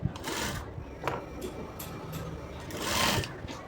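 A sewing machine stitches a doubled cotton lining fabric for a puff sleeve in steady continuous runs, fairly close and moderately loud, with brief pauses and a louder burst near the end.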